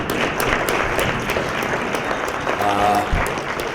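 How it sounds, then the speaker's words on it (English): Conference audience at an industrial IoT panel applauding the speakers and panelists, steady mid-sized clapping that carries evenly throughout, with a faint voice briefly heard beneath it. "please give the speakers and panelists an applause"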